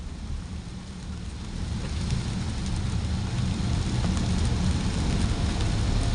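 Steady heavy rain hisses down on a road by the Bangkok–Pattaya motorway frontage road in heavy evening traffic, a dense wash of noise that swells slightly louder and holds constant, with no voices.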